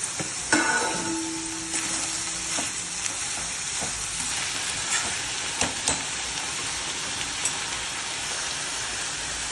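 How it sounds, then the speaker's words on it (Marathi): Chopped onions fry in the same pan used earlier for dried bombil fish, giving a steady close sizzle with occasional spoon scrapes and clicks throughout, no voices. "ज्या कढईत बोंबील फ्राय केलेले त्याच कढईत कांदा टाकला"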